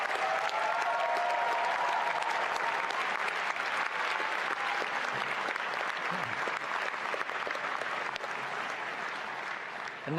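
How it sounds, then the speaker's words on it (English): Sustained applause from a convocation audience for graduating information-school master's students, a dense steady patter of many hands clapping that continues evenly throughout, with faint voices mixed in. "Could we have another round of applause for our graduating MSIM students?"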